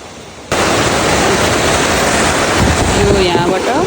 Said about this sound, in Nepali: यो चाहिँ पानीबाट चल्ने घट्ट हो।